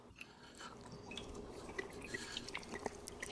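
Liquid from a jar that sat for a week drips and splashes faintly in a series of small, irregular drops, close by and quiet.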